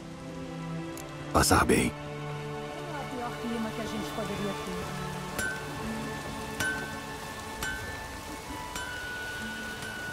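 Steady rain falling in The Witcher 3, a constant hiss of drops spattering on surfaces with a few clinks and a brief louder burst, while a voice speaks briefly over it.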